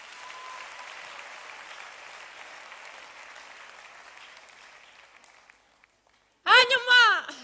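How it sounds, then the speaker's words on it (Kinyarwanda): Congregation at a church service applauding in a burst of claps near the end, following a spell of quieter crowd murmur. "Ubwo ntitwayikomera amashyi."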